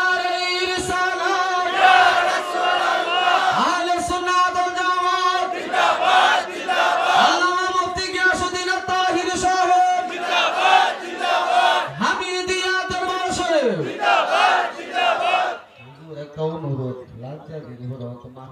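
A rally crowd chants slogans in unison, with loud, sustained massed voices rising and falling in rhythmic phrases before breaking off into scattered shouting.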